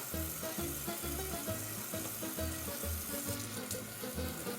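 Hands are scrubbed under a running kitchen tap. A steady, close hiss of flowing water continues throughout, with faint music playing beneath it.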